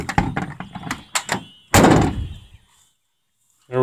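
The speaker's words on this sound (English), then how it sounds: "the door could use a little help there" A burst of rattling clunks and scrapes, then a heavy thud as a stiff car door on a car that sat for ten years gives way, followed by silence and another knock.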